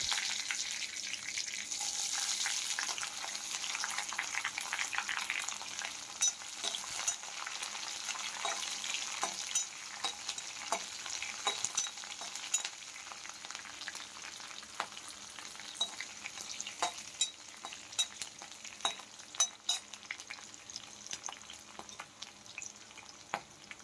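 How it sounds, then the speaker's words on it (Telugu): Curry leaves and green chillies frying in oil for a potato fry, a bright crackling sizzle that starts strong and settles into quieter popping and spitting. "కరివేపాకుని, పచ్చిమిర్చిని యాడ్ చేసుకొని బాగా ఫ్రై చేసుకోవాలి"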